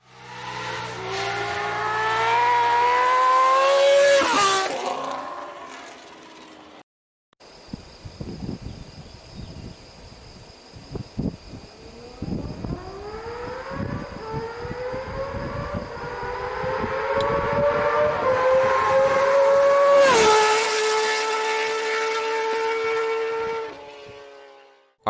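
A motorcycle engine screams past at high revs, rising and falling in pitch as it accelerates, fades, then roars back loudly before trailing off.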